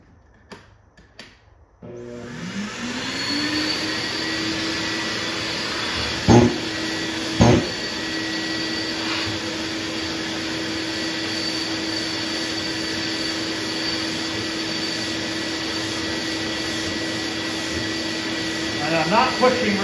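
Loud, steady sanding roar close by as a sanding block is worked over guide coat on a 1949 Ford pickup truck door, running almost continuously after a brief start with a couple of knocks partway through.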